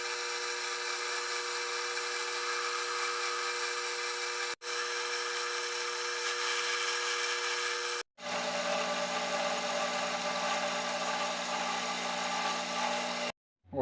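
A 5 mm milling cutter cuts a slot into a metal part for a scraping tool on a homemade electric scraper machine, giving a steady, loud machining whine that runs continuously, broken by two brief pauses, with no talking.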